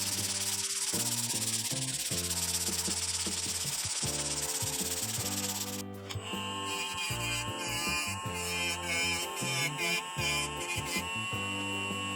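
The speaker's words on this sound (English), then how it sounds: "I just sanded all the way from 150 grit all the way up to 1000 grit" A hand-forged knife blade made from an old saw blade is rubbed with sandpaper, from 150 up to 1000 grit, making steady close scratchy strokes under a loud layer of music.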